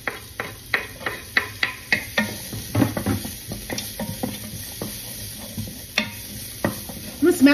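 Onion and garlic fry in a pan for cooking mussels, with a soft sizzle beneath a run of sharp, regular knocks and taps of a utensil against the pan, close by and without speech.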